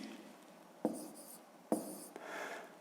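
Pen or pencil strokes on paper during a fifth-grade maths exercise, faint and close, with two sharper taps amid soft scratching in a quiet room.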